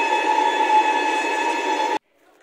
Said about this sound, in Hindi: वैग 9 लोकोमोटिव मालगाड़ी को लेके जाता हुआ, वैगन्स को।